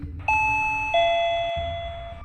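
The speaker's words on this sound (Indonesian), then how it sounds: "membunyikan bel tamu setelah menunggu beberapa lama" A two-tone ding-dong doorbell rings once, clear and close, with its tones ringing out over a low background hum.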